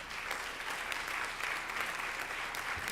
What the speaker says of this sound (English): Another round of applause for Judge